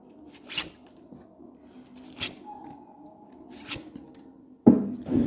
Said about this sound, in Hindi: इस कार्ड को मैं पलट देती हूँ